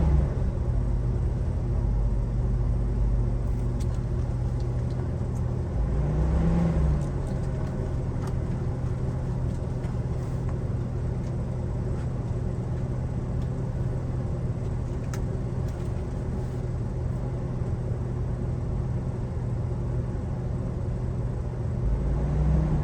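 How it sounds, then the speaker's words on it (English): A school bus engine idles with a steady low rumble, and a brief shift near the middle marks the air compressor cutting off while the engine keeps running evenly. "I just heard my air compressor shut off"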